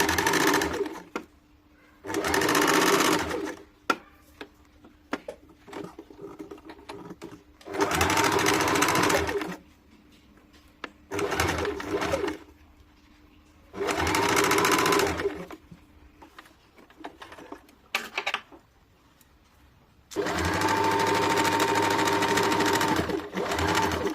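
A sewing machine stitches a deep-neck kurti in several short, loud bursts separated by quiet pauses, and the last run is longer and steady.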